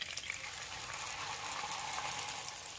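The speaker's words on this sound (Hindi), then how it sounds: "मसाले को यहाँ पर हम भून लेंगे।" Whole spices and masala sizzle in hot oil in a pan for a chicken kali mirch gravy, giving a steady, even hiss that runs quietly and unbroken without any voices.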